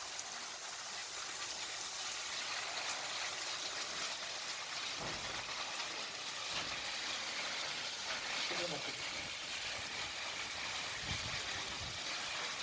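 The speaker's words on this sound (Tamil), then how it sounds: "என் பையன் மரத்துக்கெலாம் தண்ணி அடிச்சுட்டு இருக்கான்." A garden hose spraying water onto trees, a steady broadband gush and hiss that runs continuously at moderate loudness with a few brief low thumps, no voices heard.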